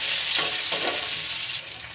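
Five-spice seeds hit hot oil in a pan with a loud, bright sizzle, steady crackling that eases slightly toward the end, with no talking.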